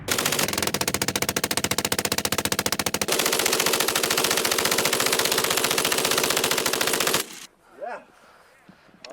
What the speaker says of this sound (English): The MG-42 was a simple, reliable killing machine.